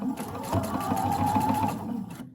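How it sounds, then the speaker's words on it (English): A domestic sewing machine stitches bra underwire channeling in a steady, fast whirring run that winds down at the end, with no talking over it. "it is much easier to just lay it and sew"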